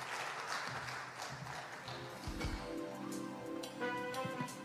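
Audience applause at a maritime design forum following a presentation, a steady wash of clapping with some room noise and brief low thumps partway through.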